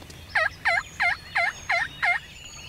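A wild turkey hen calls in a series of six evenly spaced, fairly loud yelps close by over a quiet morning background during a youth hunt on opening day.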